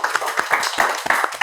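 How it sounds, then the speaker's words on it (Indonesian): Short burst of clapping from a small group during an interview, quick close claps overlapping across the moment. "Tepuk tangan, guys"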